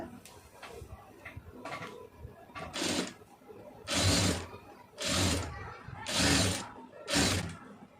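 A sewing machine stitching lace onto a blouse neckline runs in several short bursts of rapid mechanical whirring, alternating with softer handling sounds and speech between runs.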